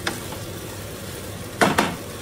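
Black rice and minced beef are stir-fried in a pan, giving a steady close sizzle with two sharp scraping strokes of the spatula near the end.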